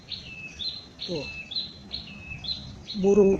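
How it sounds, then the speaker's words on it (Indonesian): A prinia (burung perenjak) sings outdoors behind a house in the late afternoon, giving repeated high, thin chirping phrases at a moderate distance, with a voice speaking briefly underneath. "burung perenjak."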